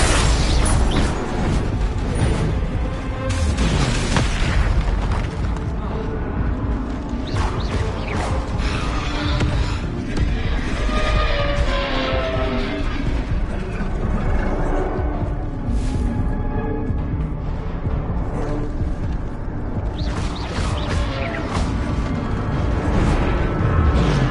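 Rapid fire-and-blast spell effects from Hogwarts Legacy combat, with Incendio, Confringo and Bombarda strikes popping and booming continuously over dense game music and noise, loud and unbroken throughout.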